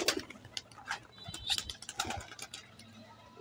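Pigeons cooing and fluttering nearby on a rooftop loft, soft intermittent coos mixed with faint rustles and brief bird calls against a quiet background.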